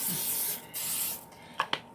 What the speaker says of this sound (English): have my roasting pan here. I'm going to spray it.